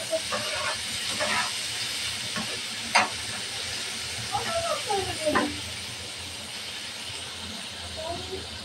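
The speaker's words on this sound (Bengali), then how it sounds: "এই তেলের ভিতরে দিয়ে দেবো পেঁয়াজ কুচি, রসুন কুচি আর মরিচ ফালি। পেঁয়াজটা ভালোভাবে ভেজে নেব।" Chopped onion, garlic and sliced green chilli frying in oil for a teasel gourd dish, a steady close sizzle and hiss running throughout while someone talks intermittently over it.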